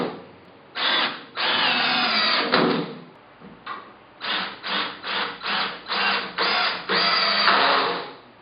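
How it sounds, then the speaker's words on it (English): A power drill drives lag bolts into wooden headboard posts in loud whirring bursts, one long run followed by about eight shorter pulses in a steady rhythm, close up with no speech. "I'm going to use these lag bolts that I just got at Home Depot, and we're going to go ahead and take those on in."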